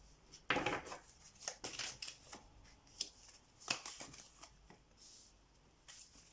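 Tarot cards shuffled and drawn from a deck, giving a few soft riffling bursts and light slaps of card on card, with quiet papery rustles between them, close and at low volume.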